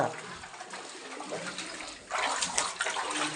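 Water trickling and gurgling as it seeps up from below inside a temple cave, a steady wet wash that swells louder toward the end, with voices faintly present.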